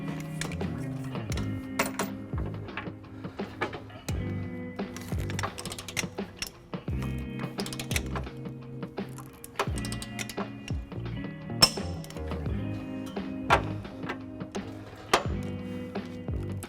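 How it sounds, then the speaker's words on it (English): A torque wrench with a 5-inch extension and 19mm socket tightens the trailer hitch bolts on a 2018 Lexus RX350. It gives a long run of close, rhythmic ratcheting clicks and metallic knocks, with no talk. "Now we're going to take our torque wrench, 5-inch extension, and a 19mm socket and torque it to the manufacturer's specs."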